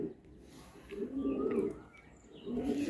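Laldom pigeons coo in soft, low, repeated throaty bursts, close by, with faint chirps and background noise between the coos.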